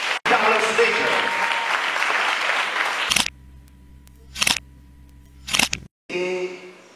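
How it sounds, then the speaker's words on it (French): Audience applause at the final of a debating contest in Kinshasa swells loudly for about three seconds and then cuts off, followed by short bursts of handling noise and a brief snatch of voice. "Est-ce qu'on peut applaudir"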